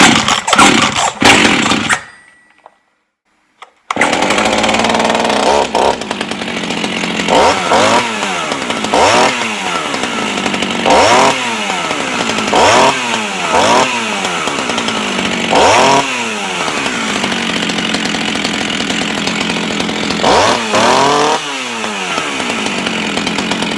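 Jonsered 520 SP chainsaw with a repaired pull cord, choke out, starting after a brief pause and then running loud and close, its two-stroke engine revving up and down in repeated rising bursts over a steady idle.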